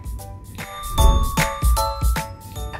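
A notification bell sound effect: several bright, ringing dings strike in quick succession with short decays, clear and alone.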